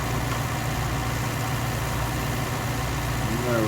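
A tractor engine runs steadily close by during beet lifting in 1965, a continuous low idling drone with a faint rising tone near the end.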